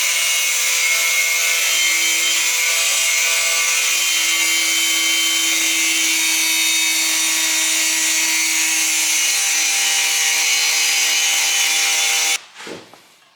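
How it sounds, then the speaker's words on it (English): Abrasive cut-off wheel grinding through a metal oil pan during a K24 engine swap into a BMW E30, a loud continuous high-pitched whine holding steady for about twelve seconds before cutting off with a brief clatter at the end. "I got more cut-off wheels, and we are going to trim this down and get this off today"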